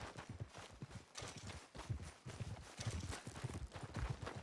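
A horse's hooves clip-clop at a steady walking rhythm in the Red Dead Redemption 2 video game, close and continuous over faint ambient sound.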